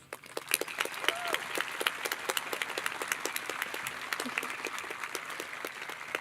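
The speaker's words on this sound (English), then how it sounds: "Let's give our teachers a round of applause." Steady applause from a large graduating crowd honoring teachers at the Rome High School 2021 commencement: dense, continuous clapping, with a few louder sharp claps standing out from the wash.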